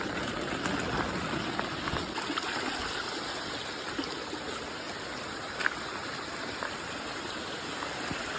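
Water rushes and trickles steadily in a stream during heavy rain, with rain pattering all around while crabs are caught along the bank; a continuous close, even wash with a few faint knocks.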